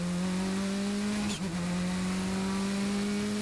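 A Funyo race car at the Magny-Cours circuit holds a loud, steady engine drone. The tone briefly dips about midway, then resumes as the car powers on alone.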